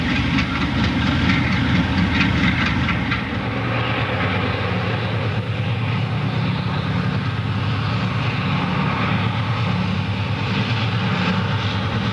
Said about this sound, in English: 445 out of Centralia as it begins its run to Paducah on the one-time Burlington line through the southern Illinois coalfields